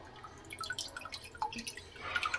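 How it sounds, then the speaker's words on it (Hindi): A mint margarita drink strains through a sieve into a bowl, giving soft close-up drips and trickles in an irregular patter. "यहाँ पर हम लेंगे एक बाउल और उसके ऊपर हम रखेंगे छन्नी, और छन्नी में डालकर इसे हम अच्छे से छान लेंगे।"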